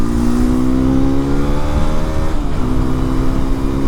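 Hero XPulse 210 motorcycle with a new aftermarket exhaust, engine droning steadily at speed as revs climb, ease briefly around a shift, then rise again; loud and continuous, with no talk.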